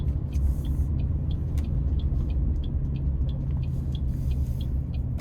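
A Chevrolet Express 2500 van, a 2025 Explorer nine-passenger conversion, pulls away with a steady low engine rumble that builds under road noise, heard from inside the cabin with faint clicks over the drone.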